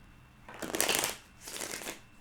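Tarot cards being shuffled by hand, two quick riffling bursts close up, separated by a short pause, fairly soft with no talk.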